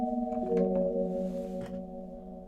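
A sustained synth tone from a Sinevibes Finite granular pitch shifter effect on a Korg synth, with several steady pitched layers, shimmering with a grainy, slightly fluttering texture that fades gradually.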